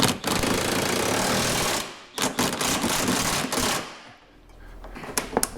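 An 18mm socket tightens a front lower control arm bolt on a 2013 BMW X5, heard as a loud, close, rapid mechanical rattle for about two seconds, followed by shorter choppy bursts and scattered clicks.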